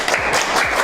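Schoolchildren clap together in a classroom, a short, dense burst of applause filling the room at close range with no talk over it.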